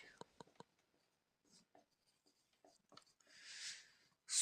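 Writing while teaching a general science lesson, quiet scratchy pen or chalk strokes in short bursts, close and faint, with soft spoken words between them.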